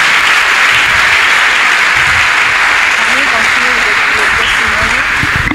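A church congregation claps loudly and continuously throughout, a dense wash of applause with voices mixed in underneath.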